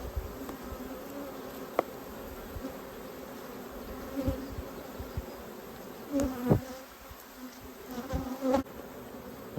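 Honeybees buzz steadily around an open hive during a June inspection, a continuous close drone with brief louder swells as individual bees pass near, alone without talk.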